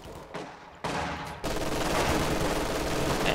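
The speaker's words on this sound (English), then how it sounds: "They're shooting right into this area." Dense sniper and small-arms gunfire crackles through a Company of Heroes 2 battle on Hill 331, a steady fusillade of overlapping shots that grows louder and fuller after the first second, with no talk.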